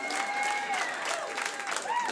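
Comedy club audience applauding at a stand-up show, a brief burst of clapping and some cheering under the comedian's talk.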